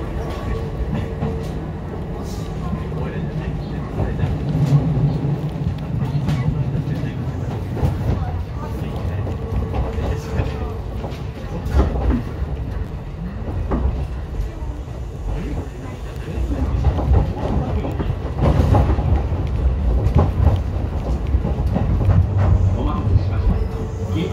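A Kintetsu electric local train bound for Kashiharajingu-mae rumbles steadily along the tracks near Kyoto, with faint clattering and interior hum throughout.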